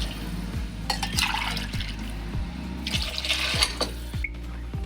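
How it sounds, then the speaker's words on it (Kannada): Four glasses of water pour and splash steadily into a pot for pulao, over a low, rhythmically pulsing hum in the background. "ಈಗ ನಾಲ್ಕು ಗ್ಲಾಸ್ ನೀರು ಹಾಕ್ತೇನೆ ನೋಡ್ರಿ ನೋಡ್ರಿ ನೀರು ಹಾಕ್ತೀನಿ"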